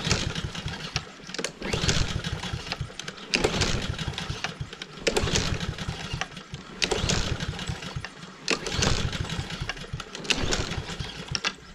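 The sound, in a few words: lawn mower engine starting up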